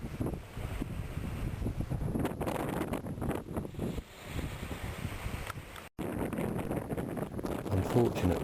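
Wind gusts across a homemade wind turbine outdoors, buffeting the microphone with rough, fluctuating rumble and rustle, dropping out for an instant before resuming.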